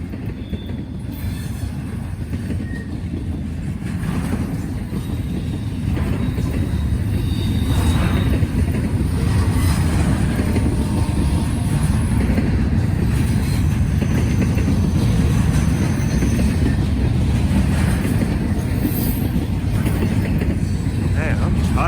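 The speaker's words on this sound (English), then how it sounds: "they're running freight up front and it's a really long train" A long freight train rumbles steadily past close by in Muncie, wheels clattering and occasionally squealing, the heavy roar building and holding throughout.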